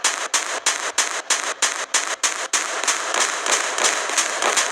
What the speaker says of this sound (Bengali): ওই তো মিসাইল গানটা ফায়ার করে নিলাম